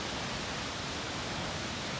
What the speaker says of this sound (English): So, yeah, that's the waterfall.